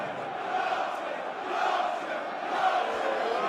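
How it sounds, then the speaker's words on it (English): A live Premier League darts crowd in Sheffield cheers and roars steadily, a loud sustained wash of many voices that swells slightly toward the end. "The Yorkshire crowd really getting into the Premier League darts tonight"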